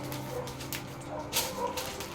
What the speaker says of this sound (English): if you hear the sound of dogs barking